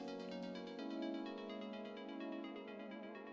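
A phone plays a soft, tonal reminder alert, a steady melodic ringtone-style chime lasting a few seconds, faint and sounding somewhat distant.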